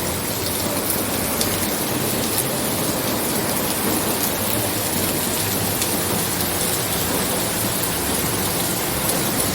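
Heavy rain pours down steadily in Hyderabad, a dense continuous hiss with occasional sharper drops close by and no talking.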